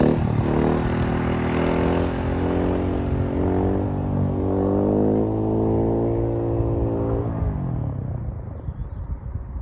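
Supermoto motorcycle engine droning loudly during wheelie practice, a steady revving roar with pitch rising and falling slightly, held near and then easing off toward the end.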